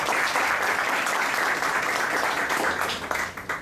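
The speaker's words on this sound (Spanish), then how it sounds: "Pues démosle una bienvenida con un aplauso" Audience applause welcoming a speaker at a talk on volcanic hazard in the Andes of Peru and Ecuador, a steady wash of many hands clapping indoors, fairly loud and continuous, tapering slightly at the end.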